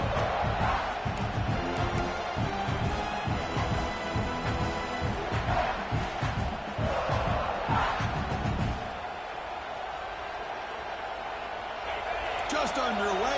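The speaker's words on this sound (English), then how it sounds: "this home crowd is fired up and ready to make a difference today" A home crowd roars and cheers at a football game, a dense, loud wall of stadium noise that swells and dips, with a commentator talking over it throughout.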